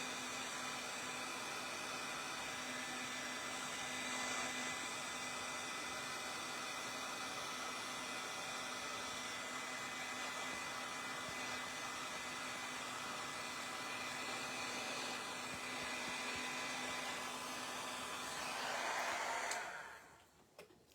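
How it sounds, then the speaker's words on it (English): A heavy-duty Milwaukee heat gun blows with a steady, loud whooshing hiss and a faint motor whine while melting embossing powder, holding constant for about twenty seconds before cutting off abruptly. "This is my heavy duty Milwaukee heat gun."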